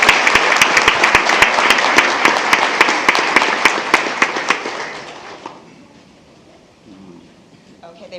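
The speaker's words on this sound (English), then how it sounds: "one more round of applause for this amazing team" An audience at a school board meeting gives a round of applause for a team. Loud, dense clapping carries sharp, crisp claps near the microphone, then tapers off over a few seconds to quiet room sound.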